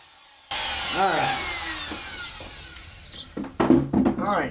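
Power router trimming a redwood cabin sign, a loud steady whine that starts abruptly and runs on, then breaks into short uneven bursts as the bit cuts the wood near by.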